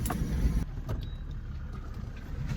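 A four-wheel drive vehicle travels through rough back country in wild pig and cattle country, its engine and tyres giving a steady low rumble with bumps and jolts, close and continuous, with no talk.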